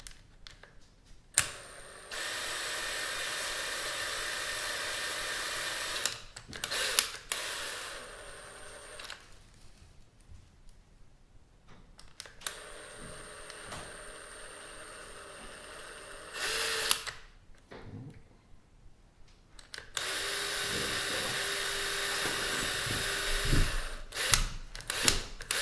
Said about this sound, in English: we'll be able to drill for new screw holes